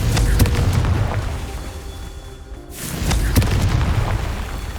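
A Confringo fire spell from the Hogwarts Legacy video game bursts twice in booming explosions, each with a rumbling tail, separated by a brief quiet dip between the blasts.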